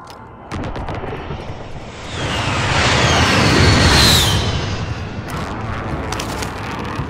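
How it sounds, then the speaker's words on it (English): A precision airstrike in a shooter game hits as one long rolling blast, building into a loud roaring rumble and swelling boom that peaks midway and then trails off into distant crackling and echoing debris. "Be advised, friendly precision airstrike inbound."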